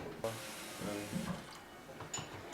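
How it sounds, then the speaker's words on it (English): Water running steadily through a homemade plant watering system, a soft continuous splashing trickle at low level with faint knocks and a brief bright clink near the end. "It's a watering system for the plants,"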